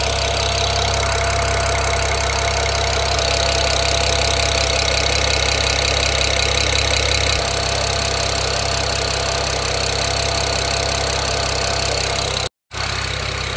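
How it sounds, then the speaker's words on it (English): A swapped-in BMW N54 engine idles steadily in an E92 335i, a close, even mechanical hum with a smooth, continuous drone that barely changes, then a brief dropout near the end. "My old E92 engine had an audible tick when you left it idling like this, so this sounds better."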